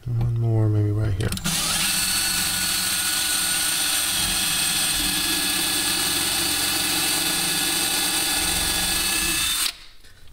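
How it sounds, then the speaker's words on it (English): A power drill boring holes through kitchen cabinet panels during a budget kitchen build runs loud and steady for about eight seconds, starting after a brief spoken moment and cutting off sharply near the end. "One more, maybe right here."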